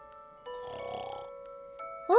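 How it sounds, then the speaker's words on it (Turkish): A cartoon snoring effect from a kitten care video game plays as a single soft, drawn-out snore over a quiet tinkling lullaby tone, with a brief chime at the end. "Aa, horlama sesi."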